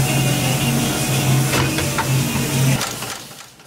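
A shoe lasting machine pulling leather uppers over a shoe last in a Goodyear-welted shoe workshop, a loud steady mechanical hum with a few clacks and thumps before it winds down.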